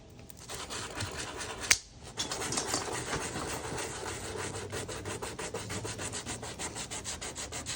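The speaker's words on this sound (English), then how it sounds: "While my wife's sanding them down." Steady rhythmic sanding of wooden toy ducks, abrasive back-and-forth rubbing strokes, close and continuous, with a brief sharp knock early on.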